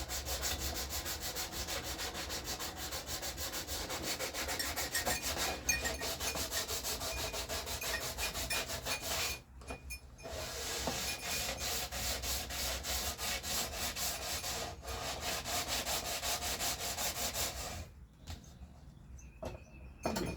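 Hand sanding on the wooden frame of a bodhran drum, a steady close rasping rub that runs almost nonstop, with two short pauses between strokes.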